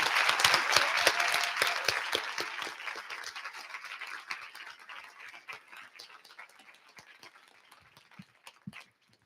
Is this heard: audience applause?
yes